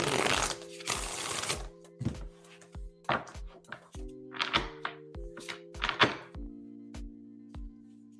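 Tarot cards are shuffled and tapped on a table in several quick riffling bursts and soft thunks, close by, over quiet sustained background music.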